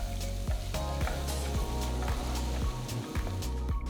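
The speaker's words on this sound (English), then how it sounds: "Saute the onions till they turn to a nice golden color" Chopped onions sautéing in hot oil in a pan for brinjal fry, a loud steady sizzle with rhythmic scraping stirs cutting through every half second or so.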